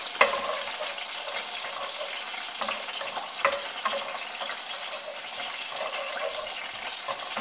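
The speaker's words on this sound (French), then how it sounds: "j'ai chauffé de l'huile, un petit peu d'huile d'olive avec un petit peu de beurre. Je mets le thym." Thyme sprigs sizzle in a pan of heated olive oil with a little butter, a steady close crackle with a few sharper pops and occasional stirring, no voice over it.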